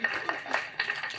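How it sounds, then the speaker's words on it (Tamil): An audience at a speech gives a quick burst of applause, scattered claps in a few uneven bunches, fairly close and brief. "தயவு செஞ்சு நீங்களே ஒரு தடவை கைத்தட்டிருங்க"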